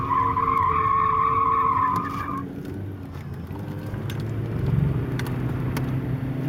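A drift car at an end-of-winter drift event slides with loud screeching tires for about two seconds, then the squeal fades into a rumbling engine and gravel-like roar up close, with no talk.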